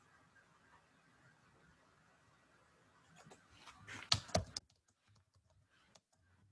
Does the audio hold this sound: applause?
no